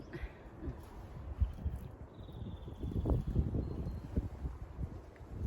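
Wind gusts and rushes outdoors beside pork strips hung to dry in the sun, with rustling and buffeting on the microphone and a faint high whistle partway through.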